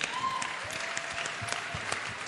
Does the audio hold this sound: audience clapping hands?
yes